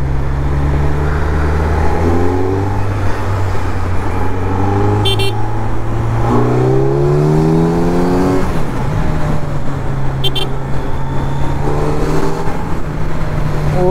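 A superbike engine drones and rises in pitch while overtaking on a road at night, loud and close throughout, with other traffic passing and brief horn toots in the background.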